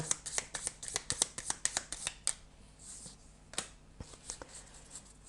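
A deck of oracle cards is shuffled close by in a quick run of crisp, riffling flicks. It is followed by a few sparser slaps and slides as the cards are laid down.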